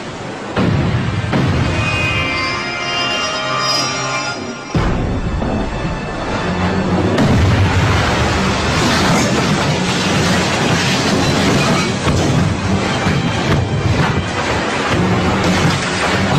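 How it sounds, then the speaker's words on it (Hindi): Enemy cannon fire as a TV drama sound effect: a deep, sustained rumbling barrage with booming low roars that swells after a brief pause and continues loud and dense throughout, with no talk. "आका समझिए, दुश्मन की तोपें जाग उठी है।"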